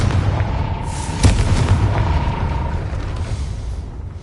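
Confringo blasting spell exploding in the Hogwarts Legacy video game, a loud deep boom with a sharp impact that rumbles and fades over a few seconds.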